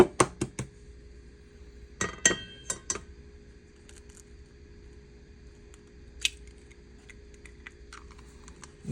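Eggs mixed one at a time into chess pie filling in a bowl, heard as sharp clustered taps and clinks of a utensil against the bowl, in bursts separated by quiet pauses.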